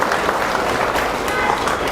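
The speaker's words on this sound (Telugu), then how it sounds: "వారికి ఒక్కసారి మనం కూడా ధన్యవాదాలు తెలియపరుస్తూ చప్పట్లు కొడితే వారు కూడా ఆనందపడతారు" Audience applause for nadaswaram musicians at an Amavasya homam gathering: steady, dense clapping across the whole two seconds with crowd murmur beneath, fairly close and even in loudness.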